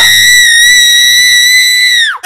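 A person lets out a loud, piercing high-pitched scream held steady for about two seconds, then breaking off abruptly.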